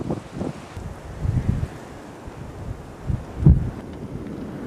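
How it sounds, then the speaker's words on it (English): Blizzard wind driving snow across an open northern landscape, a steady broadband roar with gusty swells that rise and fall, strongest in a couple of heavy bursts near the microphone. "Wind and snow have now joined forces. A blizzard breaks out."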